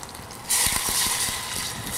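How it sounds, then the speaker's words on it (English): A hot pan bursts into a loud hiss as sake is poured in to deglaze it, the sizzle holding steady and bubbling after the initial surge. "So now I'm going to deglaze my pan with a little bit of sake"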